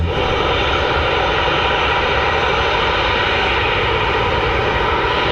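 A Ryanair jet at Manchester Airport gives a loud, continuous, close engine roar with steady intensity and no pauses.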